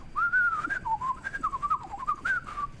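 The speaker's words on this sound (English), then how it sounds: "Some whistles." A person whistles a wavering, melodic tune up close, with short gliding phrases and brief breaths between them.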